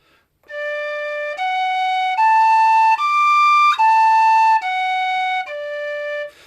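Tin whistle plays a slow rising and falling scale of seven sustained, pure notes, each joined smoothly to the next without gaps, loud and close with no talking.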